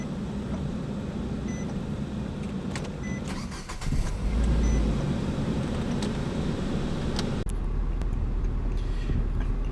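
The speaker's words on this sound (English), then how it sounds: "I like to start the car, make sure everything works." Nissan Versa engine cranking over and catching, then idling with a steady low rumble, close up inside the car, with brief clicks and rattles around the start.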